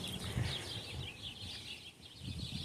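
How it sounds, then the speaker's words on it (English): Wild birds chirping along a park bike path with nearby wildlife, high repeated tweets carrying steadily over soft outdoor background noise, fairly faint and without speech. "You can hear the crazy birds up here when I come to the park"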